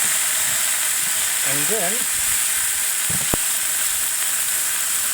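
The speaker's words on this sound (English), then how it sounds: "I'm going to throw us a couple more slices of bacon on here because it's bacon." Bacon slices sizzle on a grill over a campfire, with a constant loud broadband frying hiss running through the whole stretch. A voice speaks briefly over it, and there is a single sharp click near the end.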